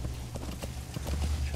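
Horse hooves clip-clopping in Metal Gear Solid V: The Phantom Pain, a quick series of soft hoof thuds over a low ambient hum, growing a bit heavier toward the end.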